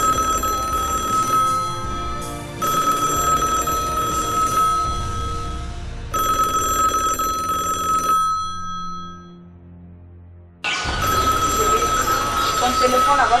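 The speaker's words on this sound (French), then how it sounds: "téléphone là va finir par me faire mal à la tête" Telephone bell ringing in repeated loud bursts, a bright sustained metallic ring with brief gaps, close by, with people talking throughout.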